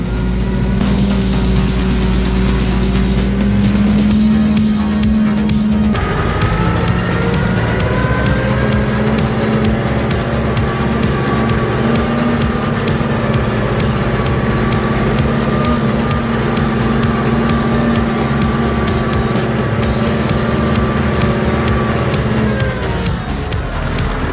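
A Scout TV-904C tractor ploughs through a muddy field. Its engine gives a steady, loud, droning hum throughout, with a slight shift in pitch early on and no clear talk.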